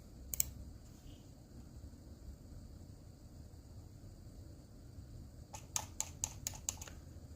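Quiet computer keyboard typing: a single click early, then a quick burst of several keystrokes near the end over a faint room hum.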